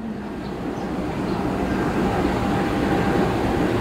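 The Argo Dwi Pangga Jakarta–Solo express pulls into track 3 at Cirebon station, a loud, steady, close rumble of rolling wagons that swells slightly and keeps up without a break.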